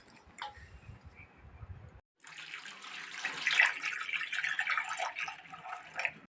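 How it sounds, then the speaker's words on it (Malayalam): Cassava pieces are washed in water, a brief quiet moment giving way to continuous close splashing and trickling as water runs over them. "കപ്പ കഴുകാം ഇനി നമുക്ക്."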